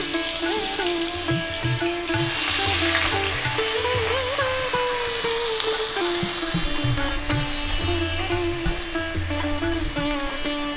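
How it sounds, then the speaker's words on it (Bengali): Ginger, onion and garlic paste frying in oil for pomfret chaap gives a soft, continuous sizzle. A steady tonal hum runs under it throughout, and no one speaks. "আদা বাটা, পেঁয়াজ বাটা, রসুন বাটা আমি খুব ভালো করে কষিয়ে নেব যাতে কাঁচা গন্ধটা না থাকে"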